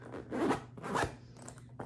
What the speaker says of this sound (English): And have this zipper that is a high quality